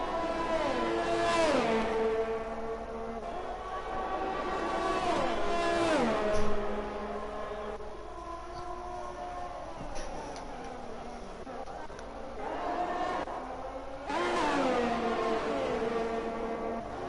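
Race car engines in a sim racing game, Formula-style cars on a Netherlands circuit, scream and rev through repeated upshifts and downshifts, pitch sweeping up and down as two cars battle closely, loud and continuous.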